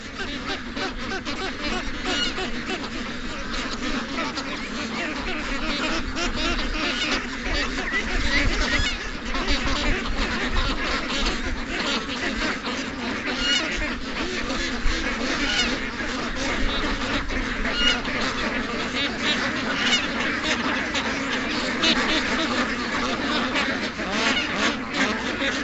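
A flock of ducks, including Muscovies, honks and quacks continuously close by outdoors near a pen, a dense overlapping chorus that holds steady throughout.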